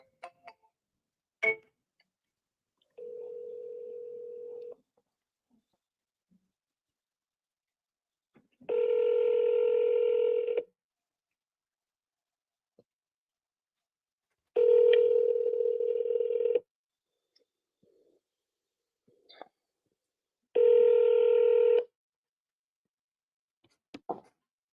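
A phone call to a seller: a soft ringback tone, then three louder ringing tones in slow, evenly spaced bursts, with small clicks and faint noises between them.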